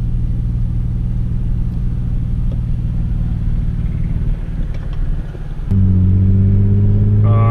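A truck's engine drones steadily from inside the cab while driving, a loud low rumble that shifts to a higher, stronger hum near the end as the engine note changes.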